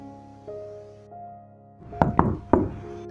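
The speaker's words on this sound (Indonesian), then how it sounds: "sambil mengetuk pintu rumah" Someone knocks on a house door in an Indonesian audio drama. Three sharp knocks land close together after a stretch of quiet, steady tonal background, and each strike is loud and distinct.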